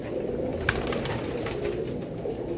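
Pigeons kept in a loft, including Danish birds, coo softly and continuously, with a faint flutter or click now and then. No voices are heard.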